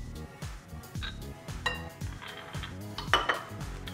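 Dry keto roll ingredients, almond flour, psyllium husk, baking powder and salt, are mixed in a bowl, giving a steady rhythm of scraping strokes and light clinks of utensil against the bowl.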